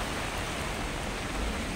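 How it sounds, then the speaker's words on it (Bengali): Heavy downpour of rain falling steadily outdoors, a dense, even roar of drops with no pauses, fairly loud and constant throughout. "মুষলধারে বৃষ্টি শুরু হয়ে গেছে"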